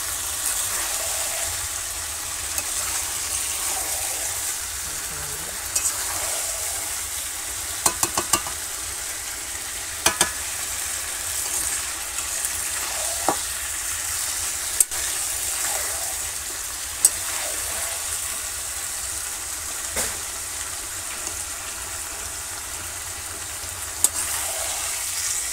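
Chicken meat sautéing in a pan over a coal fire in a village kitchen on a rainy day, a steady low sizzle with occasional sharp scrapes and clicks of stirring, fairly quiet and close, without speech.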